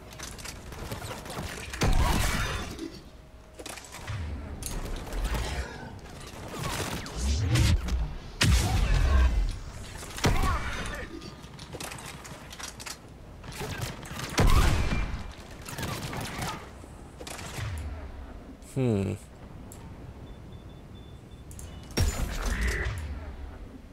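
Rapid gunfire bursts from a Mass Effect 3 battle against Rachni creatures, loud bangs repeating throughout with game effects and occasional voices mixed in.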